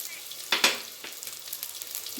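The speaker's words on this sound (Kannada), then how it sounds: "ಸ್ವಲ್ಪ ಮೆಣಸು ಇದಿಷ್ಟು ಹುರ್ಕೊಂಬಿಡೋಣ" Fenugreek seeds, garlic, fennel and cumin fry in a hot pan, a soft crackling sizzle with a few sharper pops near the start, fairly quiet and steady throughout with no talk.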